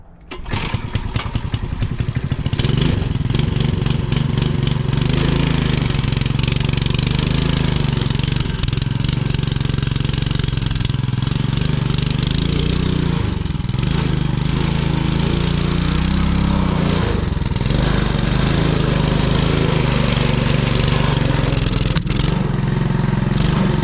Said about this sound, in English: do a sound test for it. See which one sounds the best